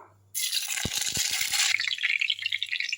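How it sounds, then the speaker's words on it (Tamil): Mustard seeds, cumin, fennel and curry leaves hit hot oil with a loud, steady sizzle and crackle, a few sharp pops early on, the hiss easing slightly toward the end. "கொஞ்சமாக ஆயில் ஊற்றி கடுகு போட்டுடலாம் சீரகம் பெருஞ்சீரகம் போட்டிருக்கேன் கருவேப்பிலை போட்டுக்கலாம்"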